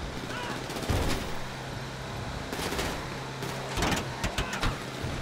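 Gunfire in GTA 5 Online during bail bond work: a few sharp shots, a burst near the start and a cluster of cracks toward the end, over steady game noise and a car engine.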